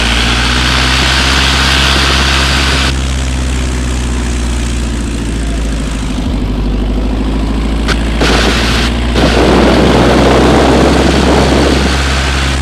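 A Piper Cub on skis runs its propeller engine at full throttle, a loud, sustained close-up drone with strong low harmonics and wind roar, steady throughout with brief gusty bursts near the end.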